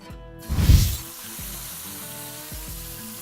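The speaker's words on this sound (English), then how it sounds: "And what we want to do is brown all the sides of it." Venison backstrap hits a hot skillet for searing, giving a loud burst of sizzle that settles into a steady, quieter sizzle with a faint tonal hum underneath.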